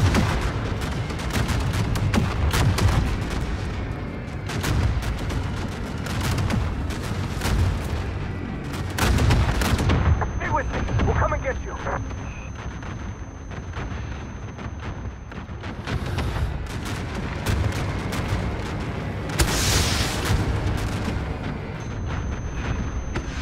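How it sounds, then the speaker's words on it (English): Explosions and artillery fire in the Warzone video game, with repeated heavy booms and blasts rolling over a dense, continuous din of gunfire and rumble, loud and close throughout. "Many explosions."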